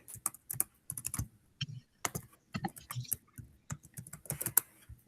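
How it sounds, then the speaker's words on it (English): Rapid clicking of keys on a computer keyboard, irregular bursts of taps with short pauses, close and fairly quiet. "I can hear you typing."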